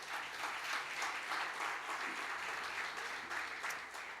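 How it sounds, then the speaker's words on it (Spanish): Church congregation applauding the Lord during a Sunday school service, a dense, continuous patter of many hands clapping together, steady and fairly distant-sounding, with faint voices underneath. "Denle un aplauso al Señor, por favor."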